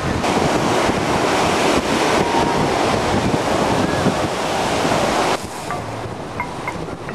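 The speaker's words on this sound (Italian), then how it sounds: "Che vento!" Strong wind by the sea on the Italian Riviera buffets the microphone with a steady roar, mixed with crashing surf nearby; the gusts ease slightly toward the end.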